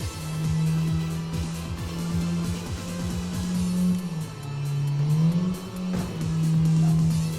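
A car engine in the video game Tokyo Xtreme Racer drones steadily while cruising, its pitch dipping and rising as the driver shifts and adjusts speed, with faint tire and road noise throughout and no talking.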